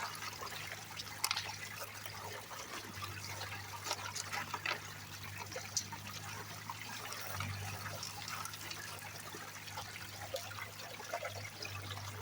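Water rushes and trickles steadily through a gold-prospecting sluice used as a classifier on a mountain dig site, a continuous low-level flow with faint splashes and a low background hum.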